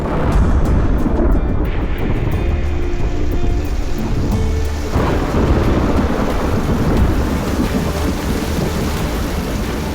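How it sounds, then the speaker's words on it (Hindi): Heavy monsoon rain pours down in a loud, dense roar, with deep rolling thunder rumbling through it and a sharper crack midway, steady and close throughout. "मॉनसून की बारिश ने गर्मी के मौसम के खत्म होने का इशारा कर दिया।"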